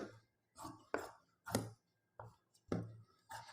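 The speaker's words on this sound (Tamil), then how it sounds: "இப்போ நம்ம இதை அப்படியே கட் பண்ணி எடுத்துக்கலாம்." Scissors cutting blouse fabric for a 50-inch U-neck blouse: a series of short, crisp snips in an uneven rhythm, close and fairly soft, with brief pauses between cuts.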